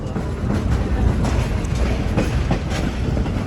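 Verde Canyon Railroad passenger train rolling along the tracks near Clarkdale, a close, steady rumble with rhythmic clickety-clack of wheels over rail joints, heard from aboard with no talk.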